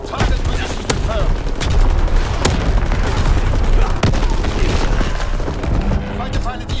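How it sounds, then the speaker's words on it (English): In the Call of Duty WW2 video game, a fighter plane makes a strafing run: dense, loud bursts of rapid gunfire and heavy booming explosions pound continuously. "Fighter pilot inbound, strafing the target."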